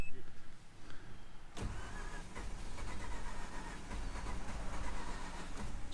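A Mazda RX-8 engine cranks and catches. A sharp onset gives way to a rough, steady running rumble, heard close, and brief voices are audible alongside it.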